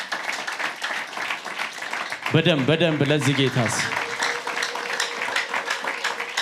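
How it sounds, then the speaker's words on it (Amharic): A church congregation applauding for the Lord, with steady crowd clapping running throughout while a voice speaks briefly over it. "አጨብጭቡ ለጌታ።"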